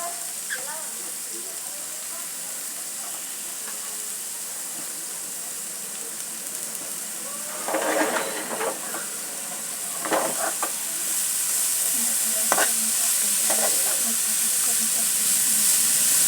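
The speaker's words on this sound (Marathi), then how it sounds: "असं छान असं लालसर होईपर्यंत परतून घ्यायचं आपण आता मेथीची भाजी टाकायची" Fenugreek leaves going into a pan and sautéing over higher heat, a steady hiss and sizzle with a few stirring bursts, brightening and growing louder toward the end, with no voices.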